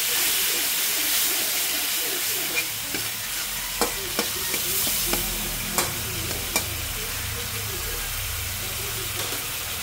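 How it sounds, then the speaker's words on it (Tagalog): Squid adobo simmering in a pan as vinegar is added, a steady loud sizzle and hiss with soft stirring and occasional light clinks of a utensil against the pan. "At ilalagay na rin po natin ang ating suka."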